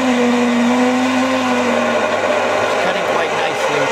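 An 18mm drill bit grinds steadily through metal with a loud, droning whine that dips in pitch toward the end as the bit bites harder.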